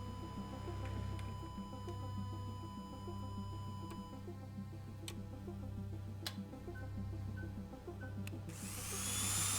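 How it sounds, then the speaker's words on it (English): A steady low mechanical drone from a drill pressing into a surface in the video game Stories Untold, with a few sharp ticks and clicks over it and a brighter whirring burst near the end. "Proceed to drill the surface."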